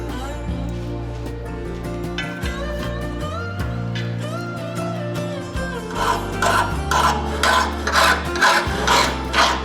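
A chainsaw file rasps along the edge of a hardened steel knife blade forged from coal-fired work, with rhythmic scraping strokes growing stronger in the second half over steady background music.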